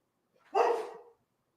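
A dog gives a single sharp bark at the doorbell, close and clear, followed by silence.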